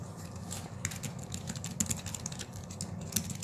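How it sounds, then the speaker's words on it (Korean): Fingers type on a Bluetooth computer keyboard in a classroom science lesson, making a steady patter of soft clicks with occasional sharper keystrokes, close and fairly quiet over a low background hum. "이게 타이핑이 키보드가 블루투스여서 잘 안 쳐지네요"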